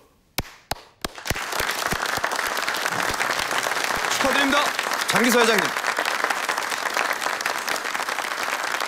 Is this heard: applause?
yes